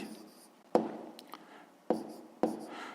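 Pen scratching numbers by hand during a sixth-grade math exercise, several short sharp taps and strokes with quiet pauses between them, close and faint, with no voice.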